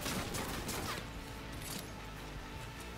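Dense gunfire from a Cyberpunk 2077 firefight, a continuous loud rattling fusillade with sharp bursts and crashes filling the whole stretch, no talking over it.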